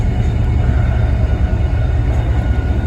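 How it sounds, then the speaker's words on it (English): A nuclear waste train hauled by class 68 diesel locomotives passing close by, a loud, steady rumble of engine and rolling wagons. "Calling the nuclear waste train."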